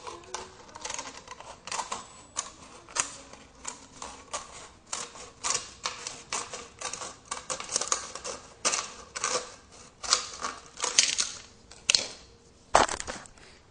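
A plastic pot for a vivarium is cut around by hand, a long run of close, crisp crunching snips and cracks in uneven bursts with short pauses between them.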